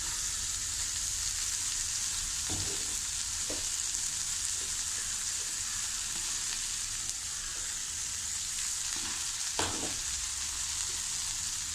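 Beans thoran with ground coconut paste and boiled bengal gram being stirred in a pan: a continuous sizzle runs throughout, broken by a few scraping knocks of the spoon against the pan, with no talking.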